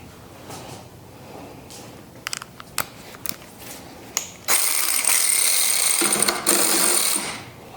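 Screws come out of the box of a neglected Chevy C10 pickup with a socket wrench: a few sharp metallic clicks and taps, then a loud, continuous rough grinding rattle for about three seconds.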